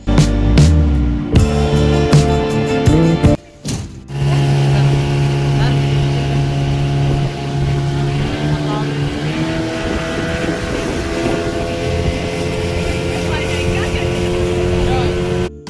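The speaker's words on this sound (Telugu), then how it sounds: "నేనైతే స్పీడ్ బోట్ ఎక్కానండి" A speedboat engine drones steadily and loudly close by on Tatipudi Reservoir, with wind buffeting throughout and a brief dip in the engine noise early on.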